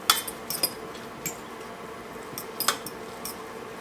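A fork scrapes and fluffs cooked rice in a hot pot, making a few light metallic clinks and soft scraping ticks, close and fairly quiet, scattered over a low background.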